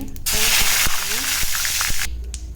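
Mustard seeds spluttering and popping in hot oil for a Tamil fried brinjal dish, a loud sizzling hiss with sharp irregular crackles over about two seconds, close to the pan.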